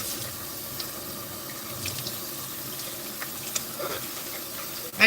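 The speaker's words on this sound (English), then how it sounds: "now I'm just washing the bowl right now" Water runs steadily from a kitchen sink tap while a bowl is washed, a continuous close splashing hiss with a few small clinks near the end.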